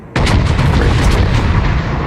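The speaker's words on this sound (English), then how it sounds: "Spy fires off his first salvo, and look at those shells" A warship's main guns fire a salvo in World of Warships, a loud, sustained booming roar that hits at once and rumbles on for about two seconds with no talk over it.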